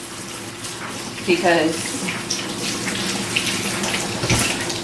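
Water runs from a tap for handwashing, a steady close rush with a few splashes as hands move under it, while someone talks over it.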